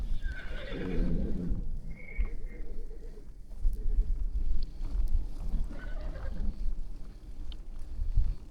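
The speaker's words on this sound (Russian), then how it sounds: "Да, лошадки." Horses neigh and whinny along a roadside near a federal highway in Yakutia, with several loud calls early on and further whinnies later, plus faint hoof clip-clop and wind in the background.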